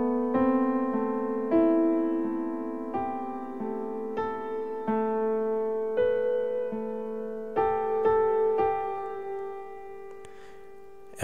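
Solo piano plays a slow melody from a song, close and clear, with single notes and chords struck one after another in an unhurried rhythm, each ringing out over sustained low tones.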